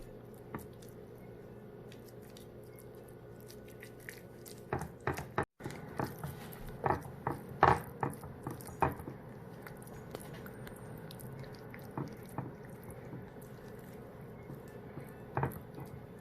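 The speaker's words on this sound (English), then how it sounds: "I usually pull out this one, the spatula, and I just flatten it" A spatula presses and spreads thick bean dip in a Pyrex glass dish, giving soft wet squishes and sharp scraping taps on the glass in an irregular rhythm, close up and without speech.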